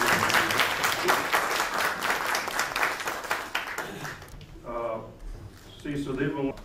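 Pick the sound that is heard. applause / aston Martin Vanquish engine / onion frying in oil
applause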